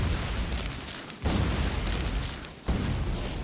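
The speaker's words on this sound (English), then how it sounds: "Careful with grenades. If you throw them too close to yourself, you can blow yourself up" Grenades explode in the video game Factorio as three heavy, rumbling booms, each one close and loud and rolling into the next, with no talking.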